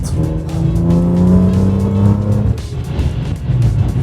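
A powerful 1000 hp tuned BMW engine roars close by, revving and accelerating hard with a deep rising drone, then dropping briefly before pulling again.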